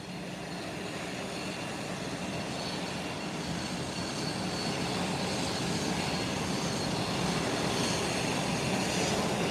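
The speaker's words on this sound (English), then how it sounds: "You're going to see this beautiful aircraft taking off." An aircraft roars down the runway on its takeoff run, a steady broadband rush that swells gradually louder with no talking.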